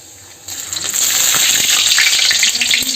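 Garlic drops into hot oil already holding cumin and bursts into a loud, hissing sizzle that starts abruptly and continues steadily, close up with no talking.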